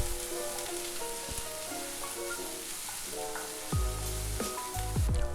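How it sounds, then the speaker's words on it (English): Onions sautéing over a low flame in oil with cumin seeds, a steady soft sizzle and crackle with occasional stirring scrapes, close and moderate in level. "drop in the onions. At a low flame, saute them until they are translucent."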